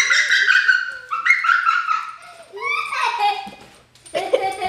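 A dog whimpers and yips in high, whiny bursts close by, with children's voices talking and calling over it throughout.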